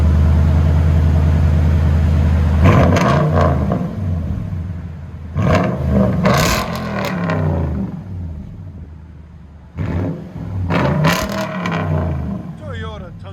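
The 5.7L V8 exhaust of a 2018 Toyota Tundra pickup with a Carven R-Series exhaust roars in three loud revs with a rumbling idle between them, close and powerful.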